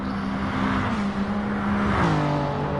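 Engines of race cars at the Nürburgring, including a Panasonic Toyota, drone steadily as one car closes on and passes another; the sustained tone falls in pitch near the end.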